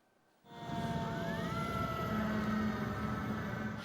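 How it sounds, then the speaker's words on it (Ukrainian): Emergency rescue vehicles and ambulances head toward a waterfront with sirens sounding. A wailing siren sweeps up and holds steady over a rumbling engine after a quiet start, loud and close. "Десятки автівок рятувальних служб і карет швидкої допомоги прямують до набережної"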